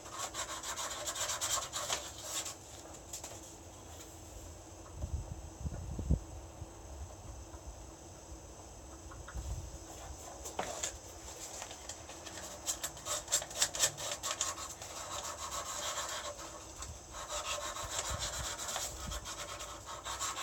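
Wood being smoothed by hand with sandpaper, giving a steady dry rubbing and scratching that keeps going in short strokes for the whole stretch, close and fairly quiet, with no one speaking.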